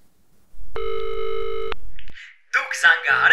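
Telephone dialing tones: a steady electronic tone holds for about a second as a number is dialed, then stops, followed by a short burst of speech.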